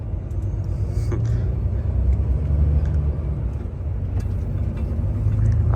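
A car drives along a road in France, heard from inside as a steady low engine and tyre rumble with faint road noise and occasional light knocks, continuous and close.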